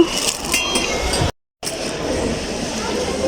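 Metal forks clink against each other as they are picked through in a discount shop in a Saudi shopping mall: close, light metallic chinks over a busy store background, with voices talking and a brief dropout midway.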